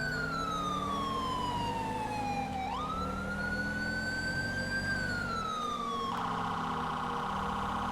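Police car siren in the video game GTA San Andreas, a loud continuous wailing tone sweeping slowly up and down, then switching to a faster yelp near the end, over steady engine rumble.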